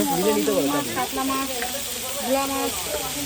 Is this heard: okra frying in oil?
yes